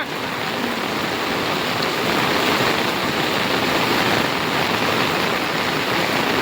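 Loud, continuous roar of a rain-flooded river rushing in full spate, a dense unbroken wash of sound holding steady throughout with no voices.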